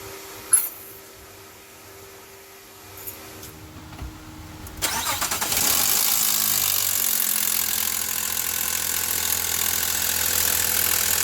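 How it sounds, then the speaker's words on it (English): A 2004-2008 Nissan Maxima engine cranks and catches after a few quiet clicks, then settles into a steady, fairly close idle with a hissy, even hum. "So let me go ahead and start the vehicle and we'll go from there."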